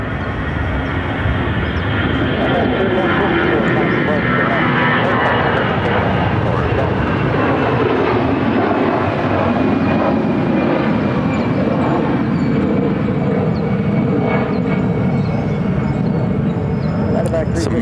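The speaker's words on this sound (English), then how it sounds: "It's American Airlines 3154 to Madison, Wisconsin on an A319" An American Airlines Airbus A319 takes off at Phoenix Sky Harbor airport with a loud, continuous engine roar that holds steady throughout, and a faint whine and rumble run under it.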